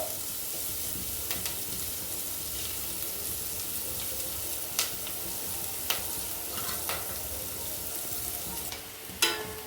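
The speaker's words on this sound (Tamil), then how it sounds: "வெங்காயம் நல்லா வதங்கிடுச்சு." Onions sauté in a pan for tomato pachadi, a steady soft sizzle of frying broken by a few sharp clinks and scrapes of a stirring utensil against the pan.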